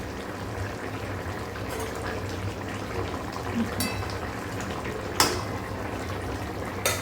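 Bengali boal fish curry bubbling in an open pot, a steady close hiss of simmering with a few sharp utensil clicks.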